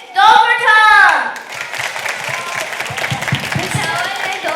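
Audience clapping at a children's comic poetry recital in Stockholm, starting after a brief spoken line and continuing as steady, dense applause for several seconds.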